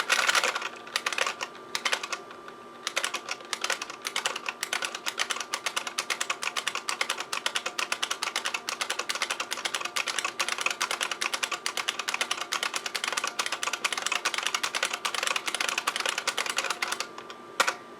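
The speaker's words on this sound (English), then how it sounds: "Just typing the directory command a bunch of times there." Rapid, continuous clatter of keys on a computer keyboard typing DOS directory commands, fast and steady for a long stretch with only brief pauses.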